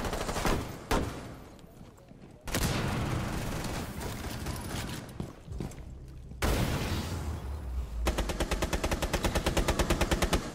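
Rapid gunfire from the video game Rainbow Six comes in loud bursts and scattered single shots, ending in a fast automatic volley of evenly spaced cracks, with game noise and some voice chat underneath.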